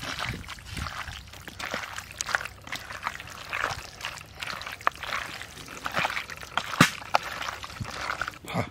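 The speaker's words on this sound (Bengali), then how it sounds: "এখন দিয়ে দেবো সর্ষের তেল।" Mustard oil poured into a clay pot during outdoor village cooking, an uneven trickling stream with small splashes and clicks that rise and fall over several seconds, no voices.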